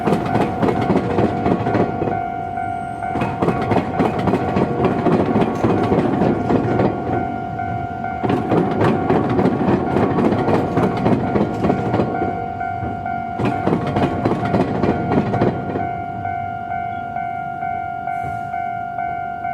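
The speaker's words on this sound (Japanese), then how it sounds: "到着する電車を撮るので、マイクのゲインは一発勝負の設定です。" An arriving train recorded beside a railroad crossing: wheels clatter and rumble in loud, sustained bursts over a steady ringing crossing-signal tone, fairly close and clear throughout.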